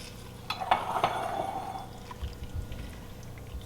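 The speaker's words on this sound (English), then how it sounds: "And then I'm going to add the tortilla chips" Tortilla chips drop into a pot of turkey tortilla soup with a short rustling pour and a few light knocks against the pot, then a quieter bubbling settles in.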